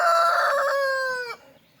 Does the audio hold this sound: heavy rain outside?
no